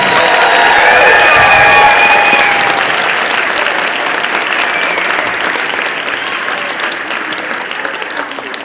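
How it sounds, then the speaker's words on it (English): Loud audience applause fills a school winter band concert hall, dense and steady from the start, with a few cheers over the clapping, then tapering gradually toward the end. "Let's give them all a round of applause."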